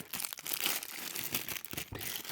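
A plastic packet crinkles and rustles continuously as it is handled and opened during a phone unboxing, a quiet, busy texture of crackles with no talking.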